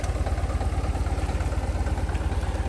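A tractor engine idles while backing up, with a steady, low, throbbing chug, close by and continuous, with no voices.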